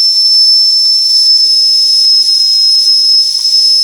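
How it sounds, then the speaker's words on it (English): Steam blows off through the valve of an antique toy steam engine, a loud, continuous high-pitched whistling hiss that holds steady throughout. "Open up the valve here and we'll blow the steam off."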